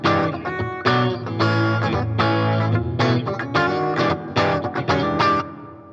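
Electric guitar with single-coil pickups playing chords and short phrases with a bright, thin tone, notes ringing out and stopping in an uneven rhythm, no voices.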